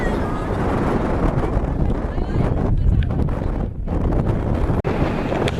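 Strong wind roars across the microphone on Khao Sam Muk hill before a run up the slope, a loud, steady buffeting rumble that continues with only a brief dip.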